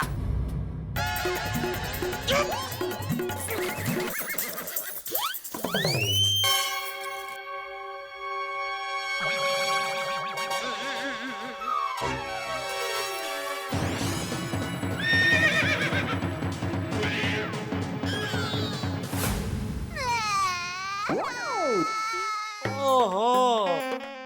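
A horse whinnies repeatedly in a comedic TV scene, loud near neighs mixed with clip-clop hoofbeats, crying sounds and synthesized musical tones, with people talking over parts of it.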